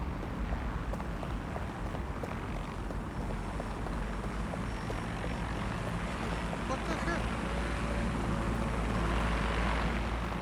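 A drone flies in the video game Watch Dogs: Legion, giving a steady, faint propeller hum that drones on evenly under low background sound throughout.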